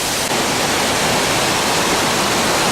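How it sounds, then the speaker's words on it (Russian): Waterfall pouring down and flowing among huge boulders, a steady, loud, broadband roar of rushing water that stays constant throughout with no voices. "Вода с водопада далее течет вниз."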